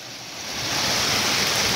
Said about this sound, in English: So the water is passing there right now.